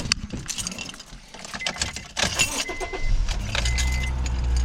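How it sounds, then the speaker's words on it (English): Keys jangle close by, then a Honda Fit's engine cranks and starts after an oil change, settling into a steady idle. "Grab our keys, and then we will start the car."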